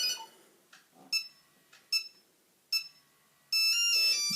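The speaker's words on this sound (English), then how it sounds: "Some of them are very peaceful, some of them are like crazy ringtones." A Nokia 3310 mobile phone plays a ringtone nearby: a string of bright, separate electronic beeps in an uneven rhythm, ending in a louder, sustained multi-tone chord.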